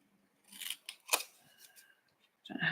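Card being trimmed for a shutter fold card: a few quiet, crisp snips and cuts in a near-silent room, spaced unevenly over a couple of seconds.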